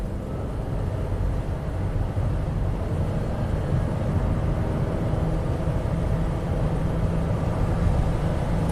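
A Honda car engine holding a steady, droning rev at high RPM with a transmission failing to shift at 100k miles, a constant rumbling hum from inside the cabin with no change in pitch.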